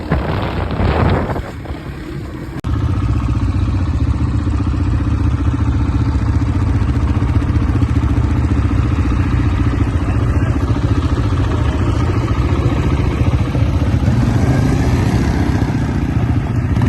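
A quad bike engine drones loud and steady as it rides, with a rough mid-pitched rumble and rattling clatter; a short burst of louder noise comes at the start, then the engine runs on continuously.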